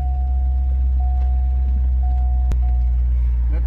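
A Corvette's engine rumbles steadily and loudly up close, a deep continuous drone with a thin whine on top and one sharp click partway through, with no talking.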